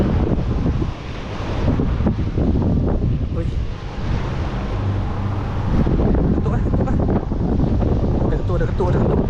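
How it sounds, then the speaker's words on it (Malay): Strong wind buffets the microphone while jigging from a boat under a bridge off Penang, a loud continuous roar with water wash beneath and voices talking through it. "Angin kuat habis."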